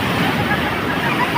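Big sea waves surge and break on the shore in a rough, crashing wash, close and steady, with faint crowd babble mixed into the roar.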